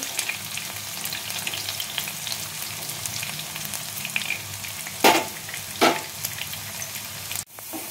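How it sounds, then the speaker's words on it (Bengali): Thin slices of taro (gathi kochu) sizzle steadily in hot oil, a dense crackling fry with two louder bursts of stirring or turning and a sharp clatter near the end, no voices. "চিপসগুলো আমার পুরোপুরিভাবে ভাজা হয়ে গেছে।"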